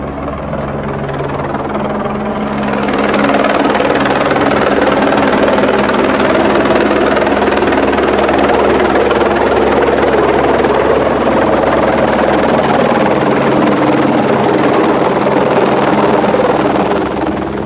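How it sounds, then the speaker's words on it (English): A helicopter lands near a hospital, its rotor thump and turbine whine building within the first few seconds into a loud, steady roar that holds close by until the end. "I just watched a helicopter land"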